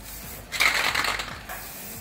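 A second coat of Do It brand paint is sprayed in a single steady hiss lasting about a second, close and fairly loud against a quiet background.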